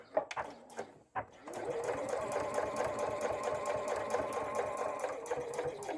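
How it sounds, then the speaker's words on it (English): A sewing machine topstitches a colour-blocked fabric wristlet strap at a 1/8 inch seam allowance with a longer stitch length. A few short starts give way to steady, close, continuous stitching. "Using a 1/8 of an inch seam allowance, a longer stitch length, and sewing along both sides"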